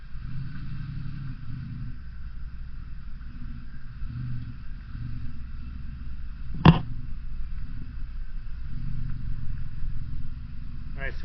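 An off-road vehicle's engine running on a new tune, a steady low rumble held throughout with one sharp brief spike partway through.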